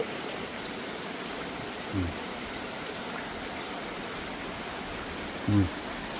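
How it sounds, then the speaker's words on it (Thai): Rain pouring off the eaves of a rural countryside house, a steady soft wash of falling water with two brief low knocks along the way. "ฝนไหล ชายคา"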